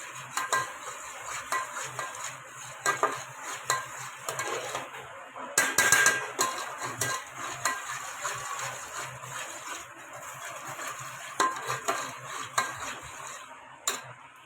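Masala frying in a pan for spicy Kolhapuri misal, a faint steady sizzle under frequent metal spoon scrapes and clinks against the pan.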